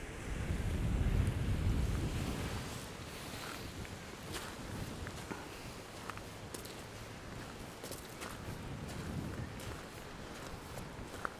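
Ocean waves washing onto a beach with wind buffeting the microphone, a louder surge near the start settling into a steady, moderate rush of surf and gusts.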